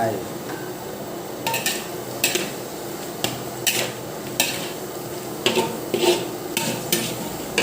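Fish being stir-fried in a pan for a holy basil stir-fry, with rhythmic utensil clanks and scrapes against the pan over a low sizzle, close up, with some speech.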